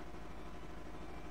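Faint and sustained, a dense buzzing synth drone from the Morphine synthesizer plugin in FL Studio, heavy in low tones, plays alone without voices.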